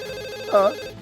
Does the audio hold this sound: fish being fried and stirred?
no